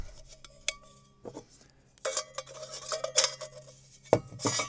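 A metal cup, canteen and lid are handled close by, giving scattered clinks and scrapes of metal on metal in short bursts with quiet gaps between them.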